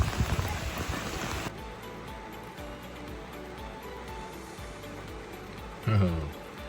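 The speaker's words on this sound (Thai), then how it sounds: "วันนี้ฝนก็ตกลงมาหนักนะครับ" Heavy rain pours down on a campsite with a pitched tent, a dense steady hiss throughout, strongest in the first seconds, with a brief louder thump near the end.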